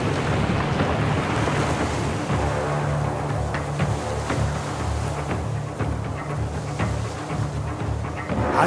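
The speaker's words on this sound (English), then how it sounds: "Abby manages to sail the troubled waters" Rough sea surges and wind batter a small sailboat in the video game A Juggler's Tale, a steady roar of waves and gusts with creaks and splashes from the boat, continuous and loud throughout.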